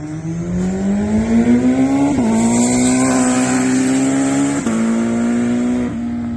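A turbocharged third-generation Suzuki Hayabusa accelerates hard down the road, its loud, close engine climbing steadily in pitch with two quick gear shifts and a third near the end.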